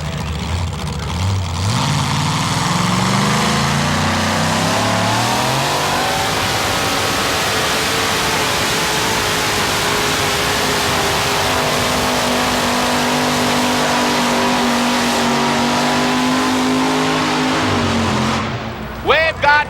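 A Chevy-powered tractor pull machine at a 1987 Syracuse pulling event revs loud and close, its engine pitch climbing and holding through a long sustained pull before dropping off at the end.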